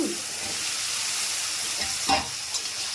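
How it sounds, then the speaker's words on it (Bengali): Drumstick stems drop into a frying pan already holding tomato, green chilli, salt and turmeric, giving a steady, soft sizzle with a couple of stirring scrapes near the end. "এবার দিয়ে দিচ্ছি নজনের ডাঁটা।"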